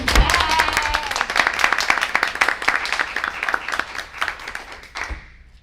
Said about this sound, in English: We got to clap for the teachers